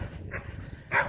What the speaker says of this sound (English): Hope he's barking at a squirrel, not a wild dog or a coyote.